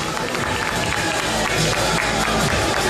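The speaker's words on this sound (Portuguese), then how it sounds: "Os aplausos de vocês para a nossa categoria Miss Physique" An audience at a pro bodybuilding championship applauds the Miss Physique category with dense, loud, sustained clapping and crowd cheering that fills the hall throughout.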